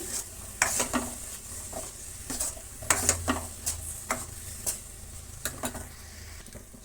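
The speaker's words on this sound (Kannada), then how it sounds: "ಈಗ ಎಲ್ಲವನ್ನು ನಾವು ನೀಟಾಗಿ ಫ್ರೈ ಮಾಡ್ಕೊಳ್ಳೋಣ ಚೆನ್ನಾಗಿ" Grated coconut and carrot frying in a pan, with a busy sizzle under repeated scraping stirs and light clinks of a utensil against the pan, close and steady without talk.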